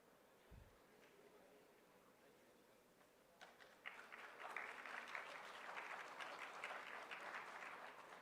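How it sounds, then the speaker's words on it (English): Applause at an inauguration ceremony for a foundation, starting quietly and swelling after a few seconds into sustained clapping from a sizeable audience that continues steadily to the end. "Please give a round of applause"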